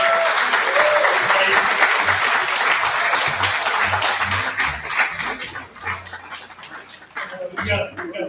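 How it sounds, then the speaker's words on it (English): Audience applause for musicians at a memorial service, a loud, steady wash of many hands clapping that thins and tapers toward the end. "so we can just first get a round of applause for our musicians."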